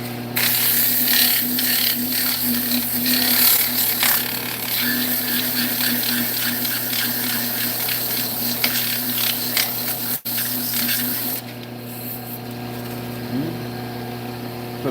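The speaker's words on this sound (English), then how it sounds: "Let's do a little bit of sanding." A wooden snowball maker being sanded as it spins on a woodturning lathe, a steady whirring motor hum with faint abrasive hiss running continuously throughout, ending with a brief slowing.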